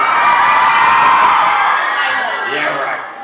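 A crowd of fans at a Twilight Saga Breaking Dawn Part 1 event in Brussels screams, whoops and cheers in a loud, sustained roar that fades slightly toward the end.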